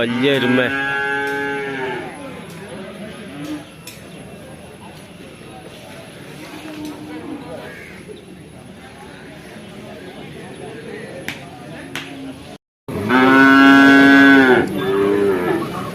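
Loud, drawn-out buffalo moos at the start and again near the end, at the Kollannur market, with a low murmur of crowd noise and voices filling the gap between.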